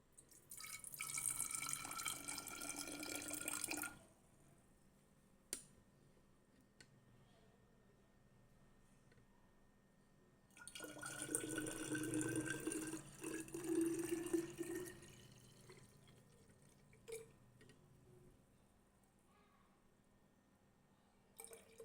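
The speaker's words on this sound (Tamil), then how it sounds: "ஷிஃப்ட் பண்ணிடலாம் நம்ம கிளாஸ் பாட்டிலுக்கு" Fresh homemade pomegranate juice poured into a glass bottle, two soft splashing pours separated by a quiet pause, close and faint.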